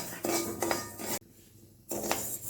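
Raw rice being dry-roasted in a pan for Thiruvathirai kali, heard as close metallic scraping and clinking of a ladle on the pan in a few quick strokes, broken by a brief quiet gap, with no speech.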